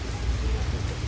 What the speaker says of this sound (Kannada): ಫುಲ್ ಜೋರು ಮಳೆ ಬರ್ತದೆ.